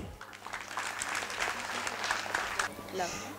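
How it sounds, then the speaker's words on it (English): An audience at a school annual event applauds before a children's performance, a soft, short burst of clapping swelling and fading at some distance, with voices audible alongside. "Big round of applause, please"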